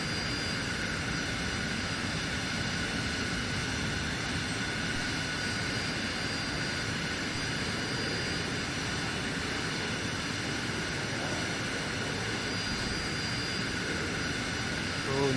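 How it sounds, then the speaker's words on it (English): A video game aircraft with folded wings taxis along streets, its engine giving off a steady, dense jet roar with a high whine that continues unbroken at moderate loudness. "With the wings folded, you can just taxi straight down normal streets."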